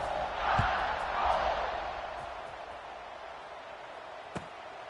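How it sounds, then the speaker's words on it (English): Crowd noise at an Ole Miss football game in a stadium, a steady broad roar that swells briefly early on, then settles into a sustained buzz with one sharp knock near the end. "this crowd is buzzing after that last score"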